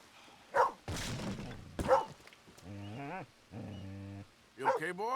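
A dog in a video game barks and growls in a few short bursts, close and fairly loud, with brief gaps between calls and some tonal game sounds in between.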